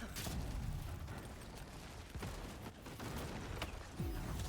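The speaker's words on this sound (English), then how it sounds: "They've got mortars," Mortar fire in the game Avowed, with a few dull booms and sharp blasts landing over a continuous bed of battle noise, fairly loud and close.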